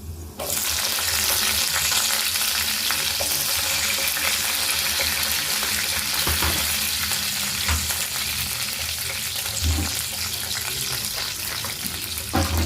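Green chillies fry in a hot pan for a coriander-tomato chutney, with a loud, continuous sizzle and occasional stirring scrapes and clatters close by.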